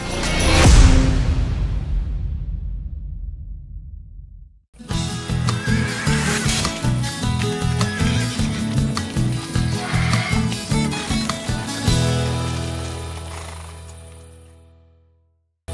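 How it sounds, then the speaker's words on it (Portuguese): Horses in a racing context on a Brazilian horse programme: a close, loud neigh or whinny sounds alone for about four seconds, then dense layered sound with rhythmic thumping continues steadily and fades at the end. "Vamos botar essa cavalhada pra correr!"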